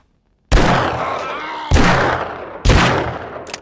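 Three loud, close revolver shots ring out in the survival video game 7 Days To Die, each a sharp blast with a decaying tail, spaced about a second apart, with no talk over them.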